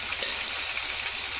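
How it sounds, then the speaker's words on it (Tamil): Mutton pieces for kebab deep-fry in hot oil, a steady, dense sizzling hiss that stays even and close throughout, with no voices. "இதை வந்து நல்லா டீப் ஃப்ரை பண்ண போகிறோம்"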